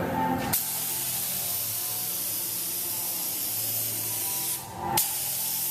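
Spray gun applying flocking to a seat gives a steady, loud broadband hiss that runs almost the whole time, with one brief pause near the end before spraying resumes.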